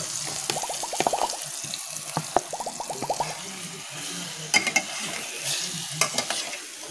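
Marinated chicken goes into a pan of frying spice masala, with a steady sizzle under clattering and scraping from a spoon against the pan, plus a few sharp knocks, close and fairly quiet.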